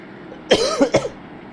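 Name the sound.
coughing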